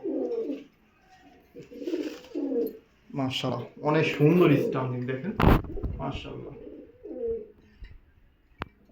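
Market-bought pigeons give low, rolling coos close up while someone speaks almost continuously over them, with one sharp click partway through.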